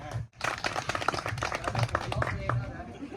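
Audience applause for a subdistrict administrative organization chief at a community New Year event, a steady patter of claps running the whole time under continuous talk from a nearby announcer.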